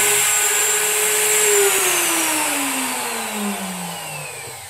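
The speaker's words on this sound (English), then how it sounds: "I went ahead and went back all the way down with the plunge router" A plunge router whines loudly while cutting wood for a telescope mirror box, its pitch sliding gradually downward as it loads up in the cut, steady and close.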